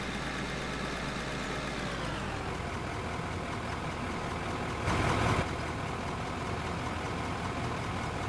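A large mining machine's diesel engine in the game Out of Ore runs with a steady heavy rumble, its pitch dropping as it settles to idle, with a brief burst of hiss midway and no talk.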